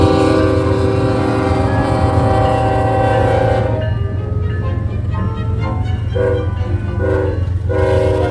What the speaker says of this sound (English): The first train I caught was an NS Manifest with a horseless nose ES40DC and a GP20C Eco from Canadian Pacific.